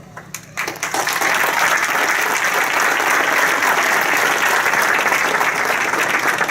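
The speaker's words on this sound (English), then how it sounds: "here to applaud your achievements" Sustained applause from a crowd at a Jacksonville-area fire department graduation ceremony for firefighter class 66-17, starting after a brief quieter moment and holding dense and loud throughout.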